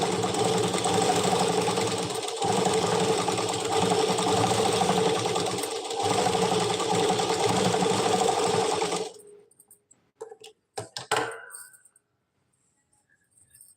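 A sewing machine stitches canvas onto a pyjama hem, a steady fast mechanical whirr for several seconds that stops abruptly, followed by a few sparse clicks and handling noises.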